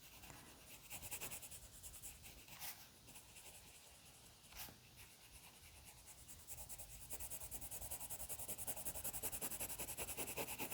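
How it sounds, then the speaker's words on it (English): Colored pencil laying a second coat of light pink on paper, a steady soft scratchy scribbling that runs throughout, close and quiet, growing slightly denser toward the end. "I'm going to add a second layer of this light pink color, meaning I'm coloring it in a second time."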